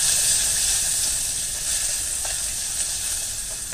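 Onion, garlic and ginger sizzle steadily in a hot pan for a fish soup, a close, continuous bright hiss with faint stirring and no talk.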